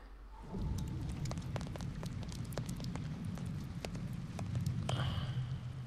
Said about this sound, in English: Okay, I get it. Good rain effects.